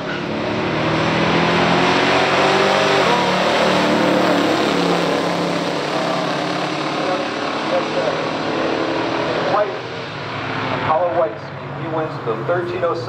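Loud roaring engines of a 1971 Mustang Cobra Jet and a 1970 Buick GSX drag racing at full throttle, a sustained mechanical drone that eases off near the end.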